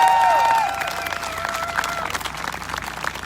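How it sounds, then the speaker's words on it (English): Crowd applause at an evening outdoor political rally and protest in Redmond, Washington, a broad, fairly distant clapping with scattered cheers, briefly overlapped by a voice at the start. "Give yourselves a round of applause for this."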